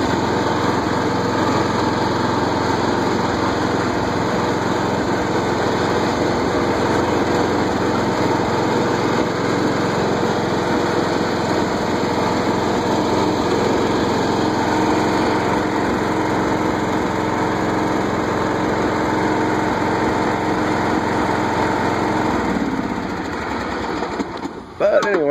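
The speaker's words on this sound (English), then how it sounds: "there, guys, it fires up and runs, and mows" Simplicity lawn tractor engine running steadily while mowing, a continuous close drone with a whining high tone that holds for over twenty seconds before dropping off at the end.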